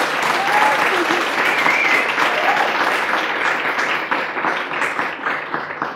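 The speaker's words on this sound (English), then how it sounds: "I think you deserve a round of applause for that." A live audience at a hosted interview event gives a steady round of applause, a full, sustained clatter of many hands that thins out slightly toward the end.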